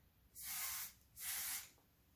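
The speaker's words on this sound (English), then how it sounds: "the dry oil spray" A dry oil hair spray is sprayed in two short, bright hissing bursts, close and clear against a quiet background.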